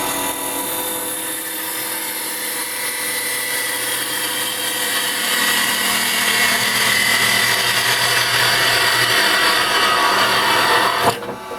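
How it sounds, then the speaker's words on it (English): A parting tool cuts into a spinning resin bowl on a woodturning lathe, a loud steady whirring grind that builds in intensity before a sharp clack and sudden drop at the end as the piece comes off. "I'm just going to use my parting tool to come in and take this off so I can use it as a glue block."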